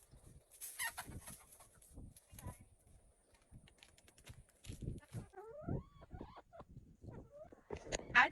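Backyard chickens pecking at black soldier fly larvae treats cluck and squawk intermittently while someone tries to catch one. The sounds are close but quiet, with soft rustling and a sharper squawk near the end.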